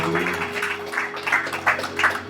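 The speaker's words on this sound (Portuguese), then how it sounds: "Palmas para Jesus." A church congregation claps in rhythm during a worship song, regular hand claps landing over sustained music and singing voices.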